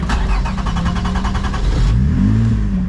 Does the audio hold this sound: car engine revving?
yes